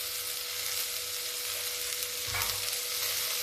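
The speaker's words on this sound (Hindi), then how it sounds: "तब तक तरोई हमारी भून जाएगी।" Sliced ridge gourd frying in a pan, a steady close hiss and sizzle of oil that holds constant throughout, with a brief stir or shift partway through and no talk.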